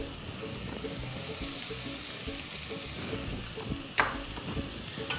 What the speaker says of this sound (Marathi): आपल्याला हाय फ्लेमवर परतायच्यात आणि म्हणूनच मी मोठी कढई घेतली